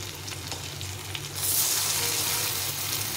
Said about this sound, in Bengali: এখন উল্টে পাল্টে এগুলোকে ভেজে নিতে হবে।